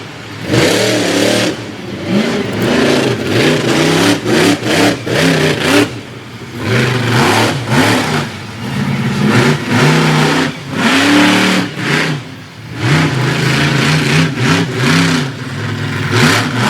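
Black Stallion monster truck driven by Mike Botters Sr. at Monster Invasion in Fredericksburg, Virginia, its engine revving hard in repeated loud surges and drops, with brief pauses between bursts.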